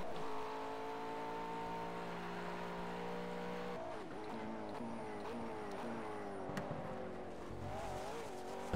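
GT3 race car in the Project CARS racing game on Xbox One, engine droning steadily at high revs, then shifting and dropping in pitch under hard braking with tire squeal, loud and close throughout.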